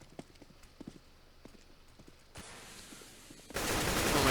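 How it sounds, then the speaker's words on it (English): Quick, light footsteps from a Counter-Strike player on the Cache map during a competitive match, a sparse run of soft thuds that is soon buried under a sudden, loud wash of noise and gunfire. "they should be able to hear each other's footsteps now"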